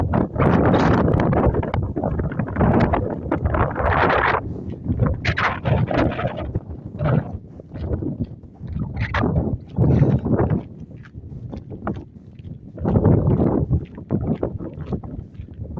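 Strong wind gusts across the microphone on a coastal walking path, loud buffeting roars that rise and fall in irregular waves with no voices.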